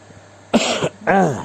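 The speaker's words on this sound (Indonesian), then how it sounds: "aku sudah batuk-batuk." Two harsh coughs burst out close by, the second rougher and longer, after a moment of near silence.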